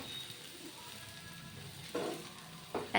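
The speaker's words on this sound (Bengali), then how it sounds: "দুটো পিঠ সমানভাবে ভেজে নিচ্ছি।" A pea-stuffed snack dry-frying in a kadai without oil over a medium-low gas flame, giving a steady soft sizzle with a few louder crackling bursts toward the end.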